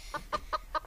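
A chicken clucks four or five times in a steady rhythm, fairly close, over a faint low background hum.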